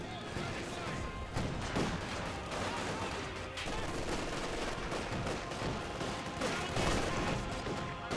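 Infantry gunfire from Grenadiers and Pioneers in Company of Heroes 2, a dense mix of rifle and machine-gun fire with scattered impacts running steadily throughout, and a commentator's voice talking over the battle.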